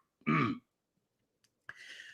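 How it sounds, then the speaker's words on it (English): A single rough throat clearing sounds close up, followed after a pause by a second raspy, breathy clearing. "Let me clear my throat."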